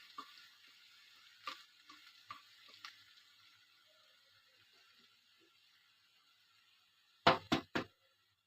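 Vegetables and egg fry in a pan for a breakfast dish, a faint steady sizzle with soft stirring scrapes, then three sharp clacks of a spatula near the end.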